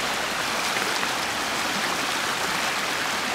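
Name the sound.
small river stream flowing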